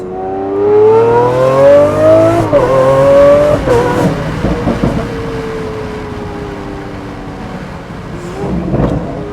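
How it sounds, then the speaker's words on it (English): A Lamborghini Aventador in Corsa track mode accelerates hard, its engine note climbing loudly through quick aggressive gear changes, then fading as the roar settles into a lower drone. "let's put it into Corsa mode, track mode. That makes the gear changes much more aggressive, suspension even harder."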